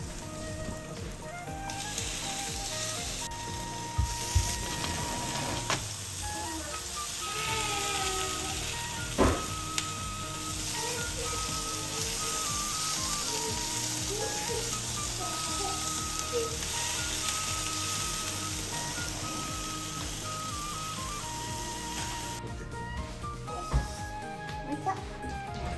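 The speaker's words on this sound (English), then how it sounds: "This morning, I'm going to grill salmon and make rice balls." Salmon sizzling as it grills in a home kitchen in Japan, a steady crackling hiss running throughout with a few small clinks of utensils, fairly close and alone.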